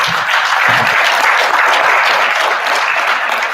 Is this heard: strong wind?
no